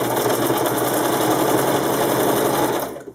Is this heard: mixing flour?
no